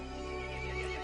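A horse whinnies in the video game Resident Evil Village, a single drawn-out neigh over a dense, steady backdrop of music or ambience.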